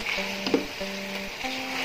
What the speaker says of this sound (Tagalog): Ganyan ang paghalo. Ikot-ikot lang.